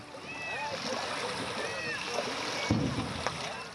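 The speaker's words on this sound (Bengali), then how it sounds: "পদ্মার বুক চিরে ভেসে আসছে ঘাস বোঝাই নৌকা, ভিড়ছে তেঁতুলতলার ঘাটে।" A boat loaded with grass moves on the Padma River, with soft water lapping and splashing, a faint knock of the hull and birds chirping in the open air.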